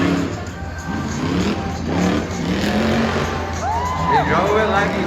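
Truck engine roaring loudly and steadily throughout a Tuff Trucks competition run at the Clark County event, with a crowd audible and an announcer talking over it.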